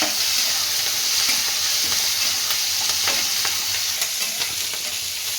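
Curry leaves and capsicum fry in a pan for a capsicum chutney, making a loud, continuous, close sizzle with faint crackles and stirring scrapes, and no voices.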